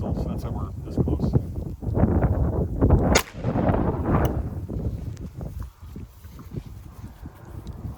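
A single sharp SIG P230 pistol shot, fired at about five to six yards at a Spanish M65 steel helmet, cracks loudly outdoors amid wind noise and nearby people talking.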